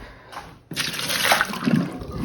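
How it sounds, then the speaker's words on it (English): Water is poured out of a cup after a 12-ounce Keurig brewer cleaning brew, a sudden steady splash after a brief quiet moment that keeps running for over a second, close and fairly loud. "I'm gonna go ahead and empty this cup"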